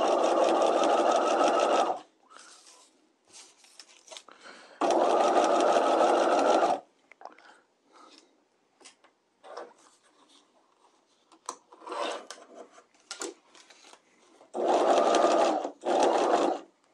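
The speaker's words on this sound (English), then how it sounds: "I'm going to stay stitch using my normal construction stitch." A sewing machine stay stitches around a bodice lining neckline in three loud, close bursts of rapid, even whirring, separated by quieter stretches of fabric shuffling, small clicks and handling noises.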